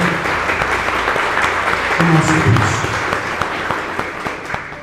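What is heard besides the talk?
church congregation applause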